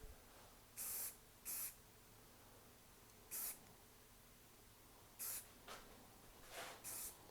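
Short bursts of CA glue activator sprayed onto a wooden machete scabbard, five or six separate hissing puffs spread out with quiet pauses between them, close and fairly loud against a faint background.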